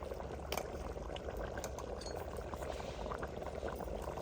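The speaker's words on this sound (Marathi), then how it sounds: "आम्हाला अजून पाण्याची गरज आहे त्याच्यामुळे आम्ही पाणी टाकणार आहोत" Water poured into a pot of home-style chole curry, a steady bubbling, liquid rush lasting throughout with a few faint clinks, close and continuous.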